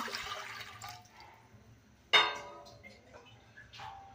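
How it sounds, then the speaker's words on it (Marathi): Water is poured from a small copper vessel into a cooking pot on a gas stove for dal, giving a brief splashing gush among faint kitchen noises. "आपल्या डाळीला जेवढं पाहिजे तेवढं आपण पाणी टाकून घेणार आहे।"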